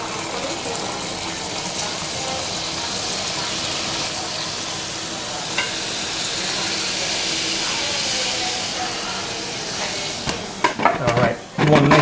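Vegetable stock poured into a hot pan of venison osso buco hisses in a steady, loud sizzle while being stirred, ending with a few clattering knocks of the spoon against the pan.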